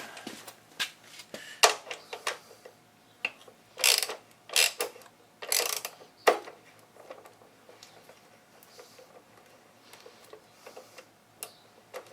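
Ratcheting clicks from a socket wrench on an extension turning a seat bolt on a Yamaha Virago motorcycle, bursts of rapid pawl ticks between pauses, close and distinct.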